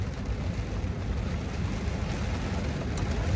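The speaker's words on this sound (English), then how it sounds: "And now it's raining." Steady rain falling outdoors, a continuous broadband hiss with a low rumbling wash underneath, even and unbroken throughout, with no voices.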